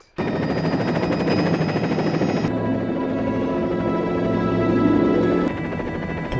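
Helicopter in flight in a James Bond film, carrying passengers to a mountaintop clinic, a loud steady rotor and engine drone that holds for several seconds before cutting off abruptly.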